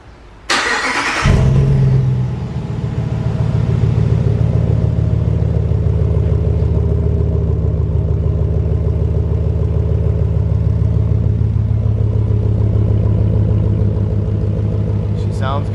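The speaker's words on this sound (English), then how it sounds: "we're gonna go ahead and remote start it up on the hoist to get you guys a better sound at it" A 2019 RAM 1500 with a straight pipe exhaust and muffler delete, remote started on a hoist: a sharp cranking burst, then the engine catches and settles into a loud, deep, throbbing idle that continues steadily.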